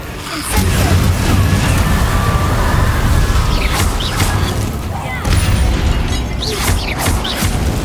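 Fire spell effects in Hogwarts Legacy on PS5: bursts of magical booms and crackling blasts over a loud, dense game soundscape, with a voice speaking in places.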